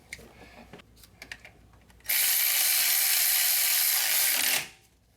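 A hand ratchet tightens a 10mm bolt on an engine bracket of a Honda 3.5L V6, a loud continuous rapid clicking burst of about two and a half seconds after some quiet handling noises.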